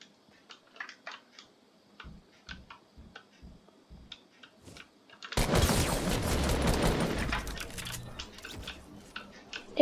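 Gunfire in the Fortnite video game, with a run of sharp, evenly spaced ticking clicks followed by a loud, sustained burst of rapid shots that slowly fades.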